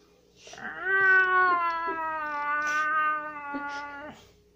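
A domestic cat gives one long, drawn-out meow close to the listener, rising and holding its tone for several seconds before trailing off.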